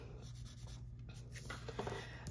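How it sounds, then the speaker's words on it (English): Graphite shading on paper being smoothed with a blending stump, a soft steady rubbing and scratching that stays quiet and continuous with no talking. "Then I will take my blending stump or my finger or my paper towel, and I'm going to do the same direction, and I'm going to smooth that in"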